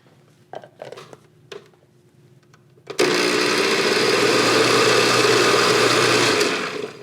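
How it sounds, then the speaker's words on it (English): A kitchen blender whirs into canned green chile after a few faint clicks and taps, then runs at a loud, steady whine for about four seconds before starting to wind down. "So I'm just gonna give it a little blend."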